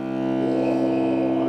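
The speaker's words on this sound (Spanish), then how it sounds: "el sonido más grave que tenemos en este grupo, que lo hace el violonchelo y suena así." A cello sounds its lowest note, one deep sustained bowed tone with rich harmonics, held steadily and fairly loud throughout with no talk over it.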